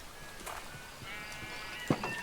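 A sheep in the Minecraft video game gives a single short bleat near the end, over faint background game sounds.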